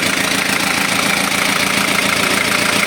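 A Kia Pregio J2 3.0 diesel van engine idles close by after timing gear work, a loud, steady mechanical rumble with a faint knocking clatter throughout.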